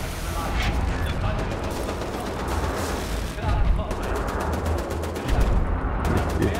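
Rapid automatic gunfire from the shooter game Wolfenstein: The New Order crackles in dense bursts with brief pauses between them, while a player talks over the shooting.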